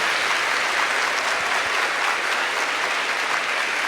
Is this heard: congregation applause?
yes